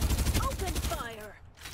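Video game gunfire, a rapid burst of repeated shots over roughly the first second, with speech alongside, then trailing off into quieter game sound.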